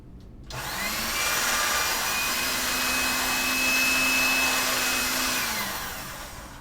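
Polymer clay runs through a motorized machine with a steady whirring drone that starts abruptly, holds for several seconds and tapers slightly at the end.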